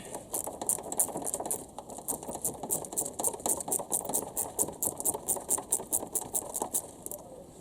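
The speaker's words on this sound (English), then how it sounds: "Got this little 10mm ratchet." A small 10 mm hand ratchet loosens cover bolts on a Honda B18 cylinder head, giving rapid, regular clicking pawl bursts in a steady rhythm, close up and fairly quiet, with no talking.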